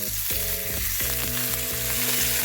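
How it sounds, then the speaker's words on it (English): Steady, loud sizzling of pork and shrimp shumai dumplings pan frying in a hot pan, a continuous crackling hiss with no voices. "as they sizzle a little bit, I'm gonna go ahead and toss some water"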